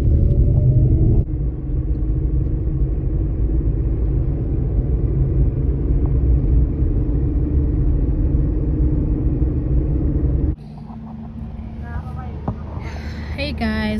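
Steady low engine rumble fills a car cabin while driving, loud and continuous, easing slightly near the end as faint voices come in.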